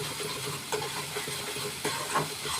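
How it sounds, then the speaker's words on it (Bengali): Spice paste being stirred and fried in oil in a pan, with a steady close sizzle and repeated scraping strokes of a spoon, and no voices. "মশলাটা এবার ভালো করে আমি কষাবো"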